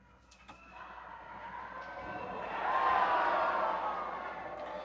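Crowd noise and cheering from nearby Sanda bouts at a martial arts competition hall, a swelling murmur of voices that builds to a rising roar midway and then eases slightly.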